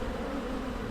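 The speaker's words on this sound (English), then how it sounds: "the agitation of some of these bees right here" Agitated honeybees in a hive on a Jacksonville, North Carolina farm in mid-May, a dense, close, continuous buzzing drone with no pauses.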